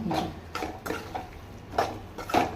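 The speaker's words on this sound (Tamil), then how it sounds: "கையை விடாமல் கிளறினே இருக்கணும்" Goat blood stir-fry being stirred in a pan, a spoon scraping and clinking against the metal in a steady rhythm of short strokes, close and moderately loud, with faint sizzling underneath.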